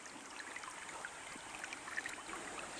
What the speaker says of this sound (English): Nice shallow run of water up here, probably about 6 inches deep, 6 to 8 inches deep.